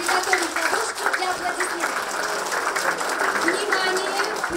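Children's variety concert audience for the March 8 holiday, steady continuous clapping throughout, mixed with a voice and some music in the room.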